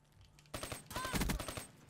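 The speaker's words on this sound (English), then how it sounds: "No, they're using shotguns." Shotgun fire in Black Ops 3 comes as a rapid cluster of close, loud gunshots after a brief quiet start, with metallic ringing tails.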